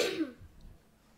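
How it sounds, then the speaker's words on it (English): A single short, sharp cough from a person in a room, close and fairly loud, quickly fading into quiet. "that's my brother coughing there"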